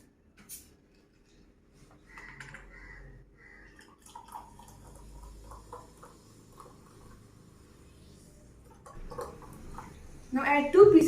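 Sprite poured into a glass holding a lemon and mint mixture, a soft trickle of liquid with a few drips that becomes louder and fizzier at the end.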